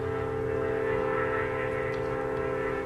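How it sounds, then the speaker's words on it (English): A train passing nearby makes a steady, loud rumble with sustained droning tones throughout and no speech over it. "oh, the train is coming"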